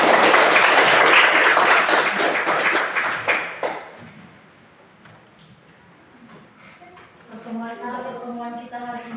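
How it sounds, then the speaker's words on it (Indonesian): A burst of dense applause from a classroom group, loud at first and fading out after a few seconds, followed by quiet room noise and a voice. "Mari kita beri tepuk tangan untuk semua"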